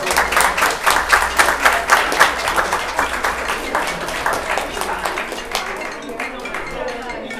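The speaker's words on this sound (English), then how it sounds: "Let's give them a round of applause." Audience at a county board of commissioners business meeting applauding, with distinct rhythmic claps at first that soften and thin out toward the end, with some voices audible.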